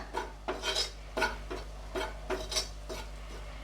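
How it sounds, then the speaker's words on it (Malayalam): Chili powder being stirred into a crab masala in a pan: soft rhythmic scraping and rubbing strokes of a spoon against the pan, about two per second, close but quiet over a low steady hum. "ഇനി ഇതെല്ലാം ഒന്ന് നന്നായിട്ടൊന്ന് മിക്സ് ചെയ്യാം കേട്ടോ."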